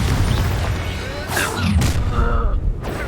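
A Confringo blasting spell bursts in Hogwarts Legacy, a loud, rumbling explosion with a crackling boom that fills the whole moment amid combat noise.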